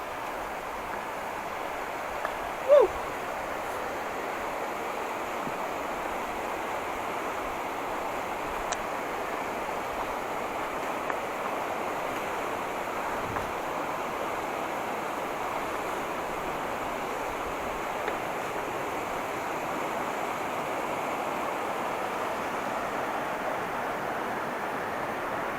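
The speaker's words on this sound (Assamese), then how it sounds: "নদীখন কাষতে বৈ আছে" A river flows close by in remote Arunachal countryside, a steady broadband rushing wash that holds evenly throughout with no talking, only a brief faint knock near the start.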